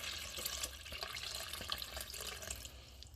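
Water from a cup is poured into a pot, splashing and trickling steadily over seasoned corned beef to just cover the meat, a faint, close, continuous pour with no voices.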